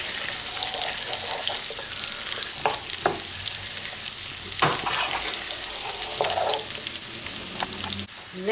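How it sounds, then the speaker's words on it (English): Mushrooms frying and sizzling in a pan, a constant crackling hiss broken by scrapes and clacks of stirring, close by with no voices. "we're going to give these a good old stir and cook them until they're browned on both sides."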